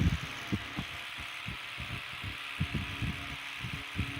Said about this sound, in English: And at 80 volts, this fan runs really nice. You can hear the armature slide in and out a little